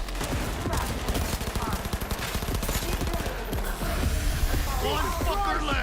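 Rapid automatic gunfire during a firefight in the Cyberpunk video game, dense sustained bursts of loud shots layered with low booms and shouted voices, continuing without pause.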